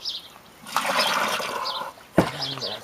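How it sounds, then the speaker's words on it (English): Water is poured and splashed into a clay seed ball mix, with a short stretch of wet sloshing followed by a sharp splash near the end, close up. "if it's a little dry, just add some more water."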